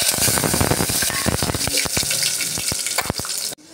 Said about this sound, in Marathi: मोहरी चांगली तडतडली की त्यामध्ये काळी मिरी टाकायची